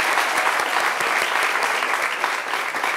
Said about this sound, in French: On vous raccompagne avec des applaudissements.